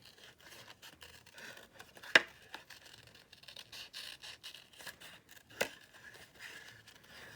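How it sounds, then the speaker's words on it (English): Scissors hand-cutting a paper pop-up card, quiet and close, with faint paper rustle and scraping broken by two sharp, distinct snips a few seconds apart. "I'm just going to cut that out quickly."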